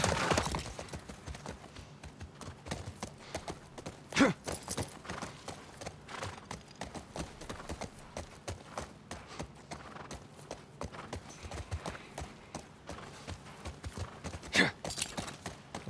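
Horse hooves clip-clop steadily and rhythmically in The Last of Us Part I, a busy stream of close hoof strikes with occasional louder thuds throughout.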